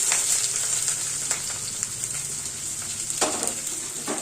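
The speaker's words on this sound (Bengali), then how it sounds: "দিয়ে এটাকে ভাজা ভাজা করবো পেঁয়াজগুলোকে" Chopped onions, garlic and slit green chillies fry in a pan with a steady close sizzle and a few light stirring scrapes.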